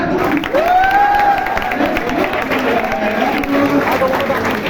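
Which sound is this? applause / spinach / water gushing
applause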